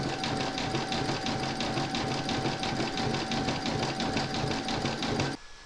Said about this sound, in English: you're now going to stitch round number 9, and that's going to do the satin stitching